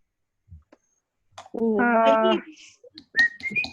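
A voice hums a wavering tone, then a clear, high human whistle rises briefly near the end.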